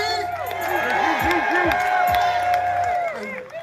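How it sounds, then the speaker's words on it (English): An outdoor crowd at a reparations rally in Washington, DC cheers and applauds loudly and continuously, with whoops and shouts rising over steady clapping that fades toward the end. "Give yourselves a round of applause, DC."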